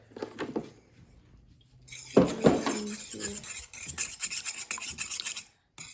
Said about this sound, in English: beat with the wire whisk or fork until the yolk and white are mixed